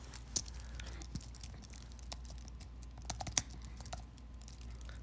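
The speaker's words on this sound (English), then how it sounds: "I did not put myself in a good typing position here" Keys clatter on a Bluetooth keyboard in quick, irregular taps, quiet and close, over a steady low background hum with a few sharper clicks standing out.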